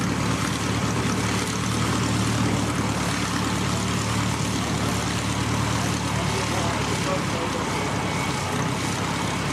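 A Hercules propeller aircraft taxis across the main runway at Christchurch Airport, a steady droning engine hum held at moderate distance throughout, with faint wind noise around it.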